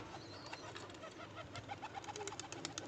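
Domestic breeder pigeons give soft, low coos at home, faint and close together, with a few light chirps and a flutter in a quiet room.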